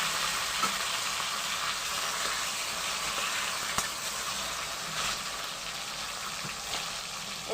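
Chopped tomatoes and eggs hit hot mustard oil in a pan, producing a dense, constant sizzle close by, with a few faint scrapes and ticks, and no talking.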